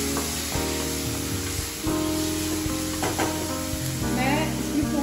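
Onion frying in a pan for poha, a close steady sizzle with a few stirring scrapes and a brief hiss of steam, with no talk.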